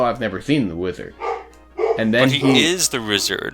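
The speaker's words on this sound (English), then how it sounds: "I'm just going to let the dog bark in the background." A dog barks in the background of a room while people hold a conversation, its sharp intermittent barks mixed in with and partly buried under the close, steady talk.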